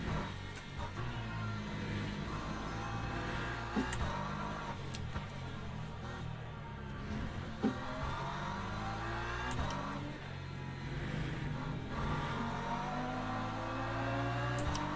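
Race car engine noise from the sim racing game Le Mans Ultimate, an LMP2 prototype coming through in an ELMS race, steady and loud with pitch sweeps as a car passes, no talk.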